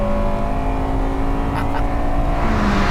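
An Acura Integra Type R's engine revs hard and climbs steadily under acceleration, loud and close throughout, with a faint whir layered over the steady engine roar.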